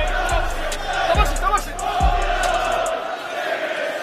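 A boxing crowd at a live fight roars in a steady, dense wash of cheering and shouting, with a few heavy thumps early on and the noise easing toward the end.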